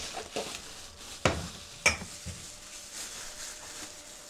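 Soft, steady sizzling of chicken frying in a pan, with a couple of sharp clinks from a utensil against the pan.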